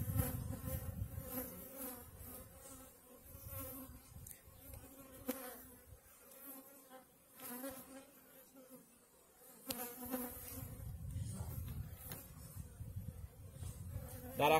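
Honeybees hum in a dense, continuous drone inside a barrel hive while their queen is getting ready to swarm. The buzzing stays close and steady throughout, with no talking.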